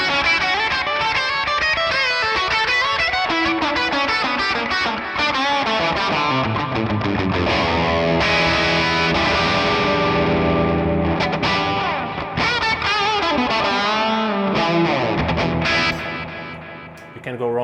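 Electric guitar through a Sound City One amp with delay, playing a loud, sustained, spacey solo, with distorted notes and echoing repeats that fill the whole stretch before fading at the end.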